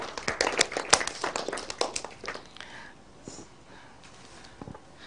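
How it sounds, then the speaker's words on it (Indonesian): A classroom of elementary schoolchildren clapping for a classmate during a Quran reading lesson, a short scattered burst of claps that thins out after a few seconds, with a few faint taps and noises trailing after. "Oke, tepuk tangan untuk teman kita."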